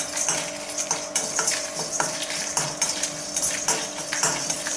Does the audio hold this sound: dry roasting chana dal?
yes